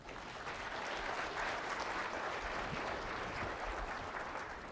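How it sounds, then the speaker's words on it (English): Dense, sustained applause fills a conference hall as the crowd claps for itself, a smooth distant roar of many hands. "Give yourselves a round of applause."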